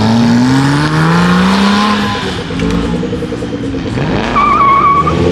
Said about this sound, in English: those turbos sound crazy